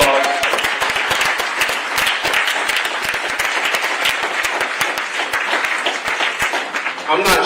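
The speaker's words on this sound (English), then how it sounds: "Can we give them all a round of applause?" An audience at an evening program for Black community development financial institutions gives the staff a round of applause, loud, close, crackling clapping with scattered voices mixed in, tapering off near the end.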